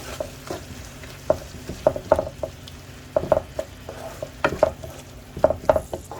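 Hand-torn mushrooms frying in a pan give a low sizzle under irregular clinks and scrapes of stirring, the utensil knocking the pan in short bursts, close by.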